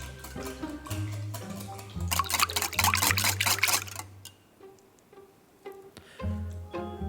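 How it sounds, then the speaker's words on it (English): Eggs being whisked with chicken broth until smooth: quick, rhythmic clinking strokes of a whisk in a bowl for a couple of seconds, followed by lighter scattered clicks and handling noise. "Whisk the mixture until smooth."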